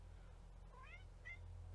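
Two short meows from a cat, somewhat distant and soft over a steady low electrical hum indoors.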